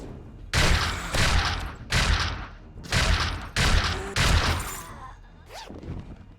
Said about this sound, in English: Take a couple shots point blank and it still wouldn't bring you down.